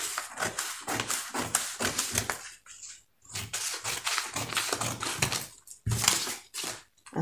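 Fabric being cut with scissors for an armhole pattern, the back piece first: a close, dense run of crisp crunching cuts that pauses briefly twice before continuing.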